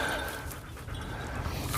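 Shed-hunting dog panting outdoors on a hillside, quick breathy huffs close by that run for a couple of seconds without talk.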